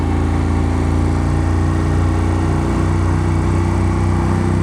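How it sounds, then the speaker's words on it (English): A vehicle's exhaust drones loud and close, echoing off stone walls, a steady, throbbing engine note with rich low harmonics that holds nearly constant throughout, with no voices over it. "Love the way the exhaust rings off of these stone walls."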